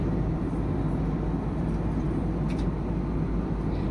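Steady broadband roar inside an airliner cabin in flight from Hyderabad to Mumbai, a constant low drone filling the whole stretch with no pauses and no talk.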